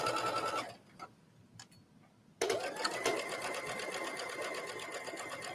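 Sewing machine stitching knit fabric: a rapid, rhythmic mechanical chatter, pausing briefly with a few soft clicks before the steady stitching resumes at close range.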